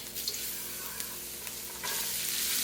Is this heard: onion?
yes